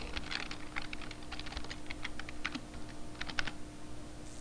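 Fingers tap out login details on a computer keyboard during a website setup, giving a quiet, close run of irregular key clicks that is briefly faster in a cluster near the end.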